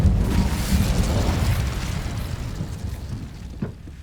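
An Incendio fire spell in the video game Hogwarts Legacy bursts with a loud, close whooshing blast that roars at once and fades over a few seconds, ending with a faint crackle.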